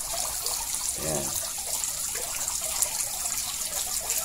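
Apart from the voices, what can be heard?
water dripping into a school fish pond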